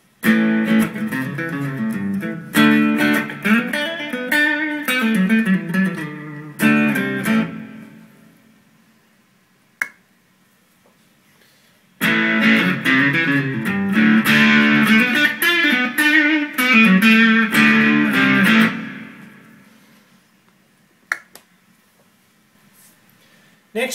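Electric guitar played through a Boss DS-1 distortion pedal, two loud bursts of chords and riffs with a pause between, harsh and saturated, ringing out and stopping abruptly.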